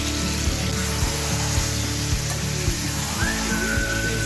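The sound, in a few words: marinated mutton sizzling as it is added to a hot pan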